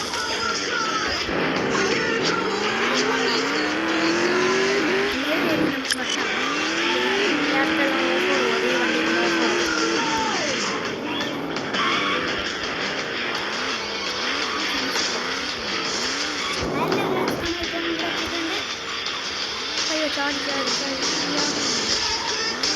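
A vehicle engine strains and revs hard while climbing a steep spot. The pitch rises and falls in waves, loud and close throughout, with a voice talking over it.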